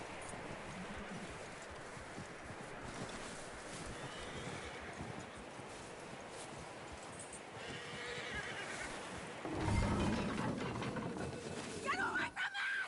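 A horse whinnies in a video game amid an outdoor ambience with hooves clopping and voices talking, and a louder burst of activity near the end.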